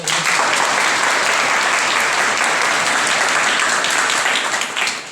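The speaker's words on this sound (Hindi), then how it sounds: "एक बार और प्रभु के लिए और इस परिवार के लिए ताली बजाएगी।" A church congregation applauds at a healing service, with dense sustained clapping from many hands filling the room, loud and steady, tapering slightly at the end.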